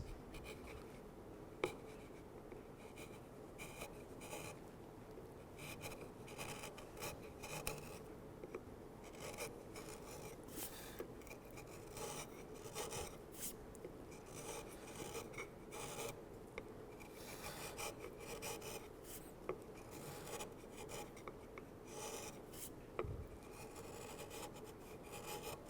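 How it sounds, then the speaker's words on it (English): A sharp chisel pares a carved wooden shell, its fan ribs being rounded, giving quiet, continuous close scraping and slicing strokes with occasional small taps, no voice present. "Sharp chisel cuts beautifully."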